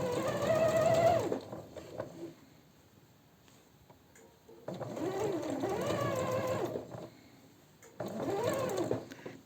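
A sewing machine stitches a facing onto a silk blouse, running in three steady close bursts of rapid whirring with short quiet pauses between them.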